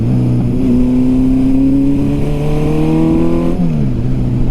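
Honda CB750 motorcycle engine revving up in the city as the throttle opens, a steady rising harmonic drone that climbs in pitch for several seconds, then drops briefly and continues, loud and close.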